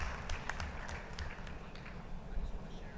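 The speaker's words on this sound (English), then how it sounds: "Can we have a huge round of applause for him?" Faint, diffuse applause from a conference audience in a hall, welcoming a speaker at a steel industry event, with scattered claps and a steady low rumble of the room underneath.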